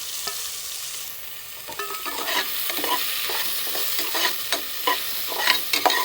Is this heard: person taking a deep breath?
no